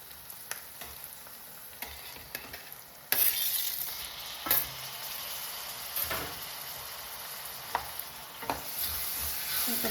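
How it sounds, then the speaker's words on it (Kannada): Tomatoes frying in a pan with ginger garlic paste, a steady sizzle broken by a louder burst as they hit the oil around three seconds in, with scraping stirs and clinks throughout and no talking. "ಟೊಮ್ಯಾಟೊನು ಫುಲ್ ಸ್ಮ್ಯಾಶ್ ಆಗೋವರೆಗೂ ಚೆನ್ನಾಗಿ ಫ್ರೈ ಮಾಡ್ಕೊಬೇಕು"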